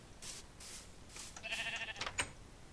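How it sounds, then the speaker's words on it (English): Sheep bleating in the Minecraft video game, a few short blocky bleats over a soft background hiss, fairly quiet with no talking over them. "Sheep, come on."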